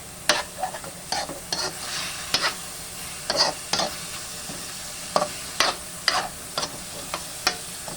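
Garlic and onion sauté in hot oil, with a steady low sizzle under repeated spatula scrapes and taps against the pan, close and fairly quiet.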